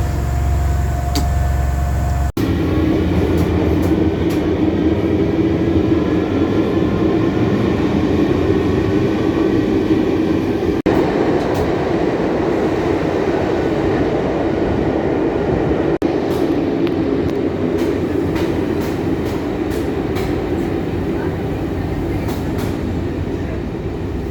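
Steady rumble of a train interior while riding, with continuous rolling wheel noise and occasional faint rattles and clicks throughout.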